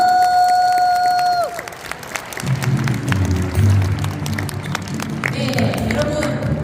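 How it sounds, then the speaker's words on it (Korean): A tone cuts off, then an audience at a year-end party breaks into loud, sustained applause with scattered cheers, continuing to the end. "브론즈 하시라고 뜨거운 박수 부탁드립니다."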